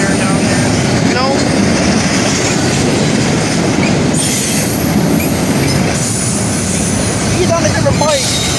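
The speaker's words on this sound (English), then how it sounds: "These trains are long out here." A very long freight train rumbles steadily past near a road crossing, loud and continuous, with wheels clacking and brief squeals rising over the roar.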